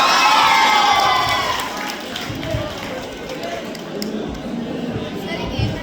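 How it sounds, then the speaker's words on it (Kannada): At a stage show in Hassan, a crowd bursts into loud cheering and applause that starts strong, then fades into a lower murmur of shouts and claps. "ಒಂದ್ಸಲ ಜೋರಾಗಿ ಚಪ್ಪಾಳೆ ತಡಿ"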